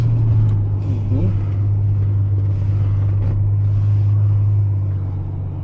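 Ferrari 812 Superfast V12 sports car driving at low speed, a steady deep engine drone with some wind noise, holding loud and constant throughout.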